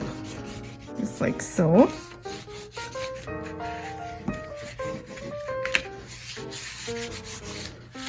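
Paper being burnished onto a scrapbook folio page, a dry rubbing and sanding scrape repeated in short strokes close up, with brief speech over part of it.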